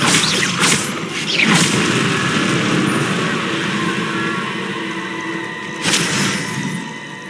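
The Incendio fire spell in Hogwarts Legacy bursts out as sharp whooshing blasts, a couple close together early and another a few seconds later, each followed by a crackling roar that fades.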